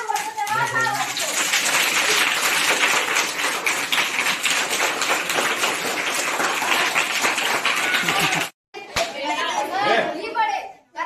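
Schoolchildren clap their hands rapidly together to imitate falling rain, a dense, loud pattering wash that runs for about eight seconds, breaks off suddenly, then resumes more unevenly with children's voices chattering through it.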